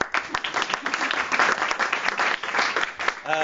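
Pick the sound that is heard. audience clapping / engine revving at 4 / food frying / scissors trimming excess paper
audience clapping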